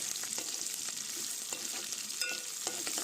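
Potatoes frying in a pan give a soft, continuous sizzle, with a few light scrapes as they are stirred. The sound is fairly quiet and close, and nobody speaks.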